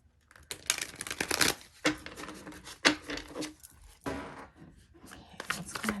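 Tarot cards are shuffled by hand in a series of quick riffling bursts and soft slaps, close and fairly quiet, with irregular pauses between handfuls.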